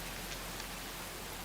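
Steady rain falls in the survival video game Enshrouded, a dense, even hiss of drops on surfaces with no other sounds.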